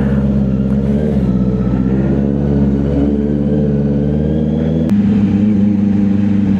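An old smoke-belching truck with no plate number revs its engine on a road, a loud, steady low rumble that holds throughout with a brief shift in pitch near the end.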